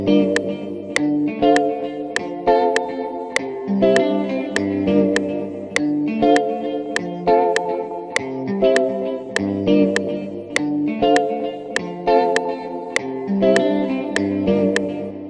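Afrobeats guitar chords from an FL Studio plugin play a bright, rhythmic repeating pattern, layered with sharp regular clicks keeping a steady beat throughout, with no talking.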